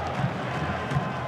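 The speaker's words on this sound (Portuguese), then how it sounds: "E aí a torcida da Lusa." Portuguesa (Lusa) supporters fill a stadium during a 2008 Brasileirão match against Flamengo, a dense, steady crowd roar lasting just over a second.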